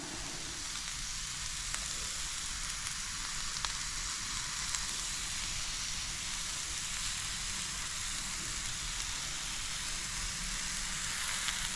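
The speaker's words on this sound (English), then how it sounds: "I'll just have to flip it over and sear it just a little bit more." Red snapper searing on a Blackstone griddle, a loud, steady, hissing sizzle that runs unbroken throughout with faint crackles, close to the cooking surface.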